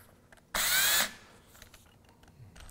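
A power drill spins a screw extractor in reverse, working into reclaimed wood: one loud, steady whirring burst of about half a second, heard alone and close, then quiet.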